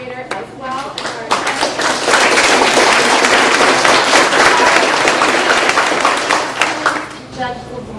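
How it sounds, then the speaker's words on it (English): An audience at a bar association panel on Stand Your Ground law gives the moderator a long round of dense clapping, loud and sustained for several seconds, with voices heard briefly at the start and end. "How about a round of applause for our moderator"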